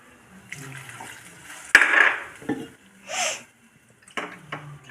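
Water poured from a vessel into a pot of kambu (pearl millet) flour, a short gushing burst followed by a few smaller splashes and light kitchen clatter, close by with no talking.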